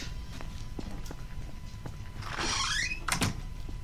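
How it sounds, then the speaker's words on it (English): A wooden door in Garry's Mod Prop Hunt swings open and shut, a creaking sweep followed by a thudding knock, among light footsteps and faint room ambience. "The door keeps opening and closing of its own accord!"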